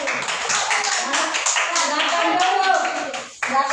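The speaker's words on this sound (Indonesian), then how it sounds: "Tepuk tangan dulu." A classroom of children applauds a group: dense, continuous clapping with young voices mixed in, ending in a brief cut before a last short burst.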